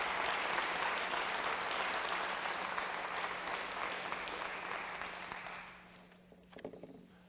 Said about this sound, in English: Ladies and gentlemen, can you give all of the young people who joined us this evening a round of applause?